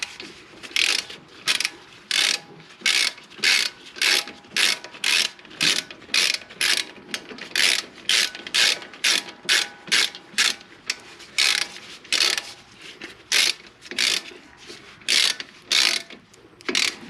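A ratchet tightens 14mm bolts holding a Nissan Sentra brake caliper onto its carrier, giving close, loud bursts of rapid clicking in a steady back-and-forth rhythm with no talking.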